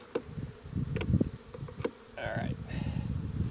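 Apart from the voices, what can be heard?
honey bees buzzing at hive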